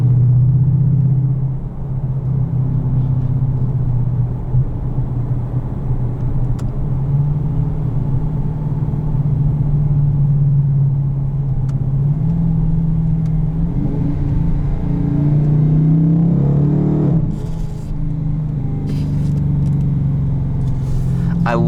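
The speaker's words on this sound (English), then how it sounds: "I love that backfire between shifts." A 2020 Dodge Challenger R/T Shaker 50th Anniversary engine drones loud and steady from inside the cabin, then near the end gives a few sharp popping backfire bursts between gear shifts as the revs rise and drop.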